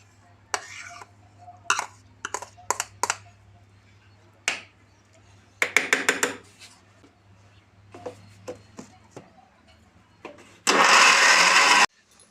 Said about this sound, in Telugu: చిన్న మిక్సీ జార్ సరిపోలేదు అంటే గ్రైండ్ అవ్వట్లేదు సరిగ్గా